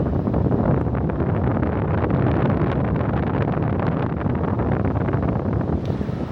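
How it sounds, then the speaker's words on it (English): Shark FlexBreeze cordless portable fan running in boost mode, a loud, steady broadband rush of airflow buffeting close against the microphone with no pauses. "let's try boost mode for maximum strength airflow."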